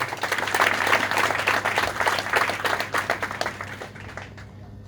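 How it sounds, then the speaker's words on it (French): Loud audience applause at a Gabonese political rally, dense continuous clapping filling the space for several seconds before tapering off near the end. "que je vous demande d'applaudir très fort"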